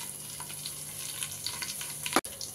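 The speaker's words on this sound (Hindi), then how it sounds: "मेरा तेल गर्म हो गया है तो मैं ये तड़का डाल दूंगी।" Steady crackling sizzle of spices, including cloves, frying in hot oil for a vegetable pulao, with a brief sharp clatter near the end.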